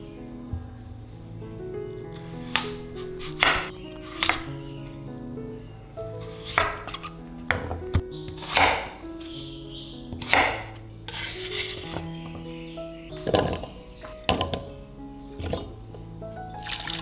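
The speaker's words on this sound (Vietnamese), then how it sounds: "em sẽ đi thái nhỏ phần khoai tây của em ra" Potatoes being cut into small pieces with a knife in a home kitchen for French fries, heard as a run of sharp, irregular knife strikes on a board mixed with clinks of dishes and wet squishing sounds, with no talking.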